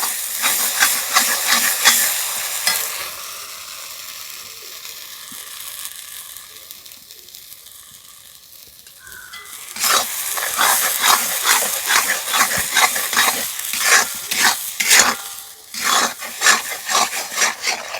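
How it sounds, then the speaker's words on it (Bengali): Mashed pointed gourd with turmeric is stirred in a wok, giving a steady sizzling hiss with rhythmic scraping strokes that ease off in the middle, then resume strongly. "এইভাবে নাড়াচাড়া করতে করতে কড়াইয়ের নিচ থেকে দেখুন খুব সুন্দরভাবে ছেড়ে যাচ্ছে আপনা আপনি"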